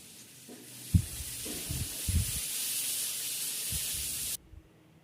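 Chopped tomato with onions frying in a pan for bhindi gosht: a steady loud sizzle and hiss, broken by a few low thumps of stirring, that stops abruptly near the end.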